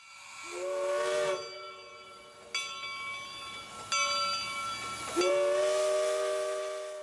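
A train horn sounds several long blasts, a ringing bell chiming between them, fairly near and loud.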